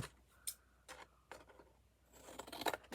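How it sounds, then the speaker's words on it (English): Scissors cut through the thin textured metal covering of a tin can in a few short, crisp snips with a scraping rustle, close by and moderately quiet, with no talking. "I'm going to cut just on the other side of it, just to give me a little extra room."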